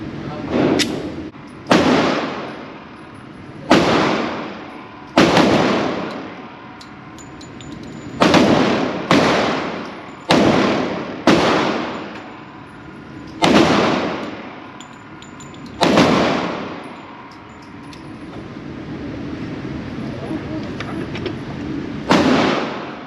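A Smith & Wesson M&P 2.0 10mm pistol fires about a dozen loud, sharp shots at an outdoor range, spaced irregularly with echoing decays between them and a couple of quick pairs.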